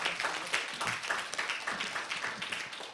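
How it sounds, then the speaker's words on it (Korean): A conference audience at a maritime educators' meeting gives a short round of applause after a session, a moderate wash of many hands clapping with a few faint sounds underneath. "여러분 박수 부탁드리겠습니다"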